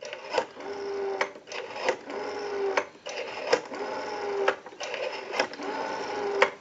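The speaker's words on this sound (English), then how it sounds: "We have a nice smooth return on the rotary." A Western Electric 554 rotary wall telephone dial spins back repeatedly, each return a close whirring run ending in crisp clicks, several dials in a row at moderate loudness.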